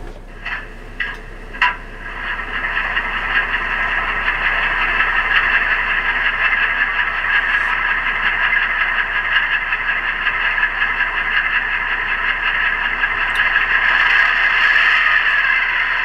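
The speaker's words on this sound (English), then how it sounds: "Starting the engine." A model locomotive sound decoder plays a diesel engine start, with a few sharp clicks and bursts followed by a steady, buzzing idle that holds for the rest of the sound.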